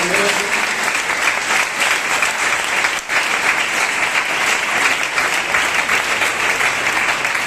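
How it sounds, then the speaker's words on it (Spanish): A church congregation gives a loud, sustained round of applause during a sermon, thick continuous clapping from many people with only a brief dip midway. "Dar un fuerte aplauso al Señor en esta tarde."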